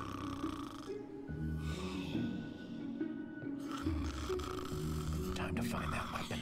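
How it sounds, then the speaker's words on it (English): A pig snores in the Minecraft Story Mode video game, Season 2 episode 4: steady, rumbling snore cycles repeat across the clip, layered with background game music. "even his snore makes him sound like a know-it-all"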